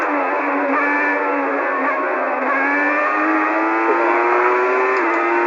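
A 1994 Formula One car racing at the German Grand Prix in Assetto Corsa, its high-revving engine a loud, sustained scream that climbs steadily through the gears with brief dips at shifts, heard alone.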